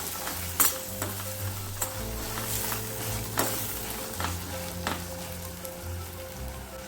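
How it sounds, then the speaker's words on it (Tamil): Turkey berries sizzle and fry with tomato and onion in a pan, a steady crackle with sharp stirring clatters scattered through it, close by and with no one talking. "சுண்டைக்காயெல்லாம் சேர்த்து நல்லா வதக்கி விட்டுருங்க"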